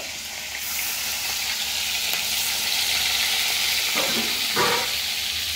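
Dried salted fish frying in hot oil in a pan, giving a steady, close, hissing sizzle throughout, with a few brief clatters near the end.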